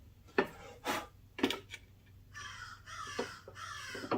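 A crow caws several times outdoors, harsh rasping calls in an uneven burst of about half a dozen, moderately near over a quiet background, with no talk.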